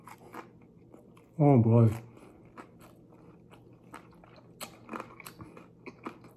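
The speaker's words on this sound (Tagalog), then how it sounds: "It's crunchy and the bulgogi is like the real Korean bulgogi." A crunchy Korean beef bulgogi dumpling is bitten and chewed up close in one loud burst lasting about half a second, followed by softer chewing and small mouth sounds while someone speaks briefly.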